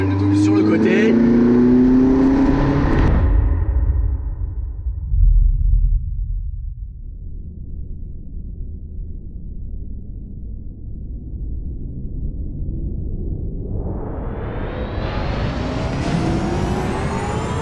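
A rally car engine revs hard while driving, loud and close, with rising and falling engine tones, a sharp drop as the throttle lifts, then a long climbing rev as it accelerates again.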